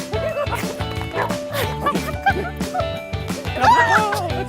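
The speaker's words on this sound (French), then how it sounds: "Viens ici, mon chien!" A dog barks repeatedly in quick, yappy bursts at close range, mixed with whimpers and playful yips.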